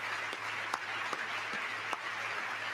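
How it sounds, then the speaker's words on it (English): A few scattered hand claps, sparse and irregular, over a steady broadband hiss and low hum during a presidential address to Congress, faint and distant. "There's a couple of people clapping over there"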